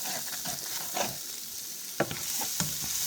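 A flour roux with vegetables cooks down in butter for braised lamb shanks, giving a soft steady sizzle with a few brief scraping stirs of a spoon against the pan, fairly quiet throughout.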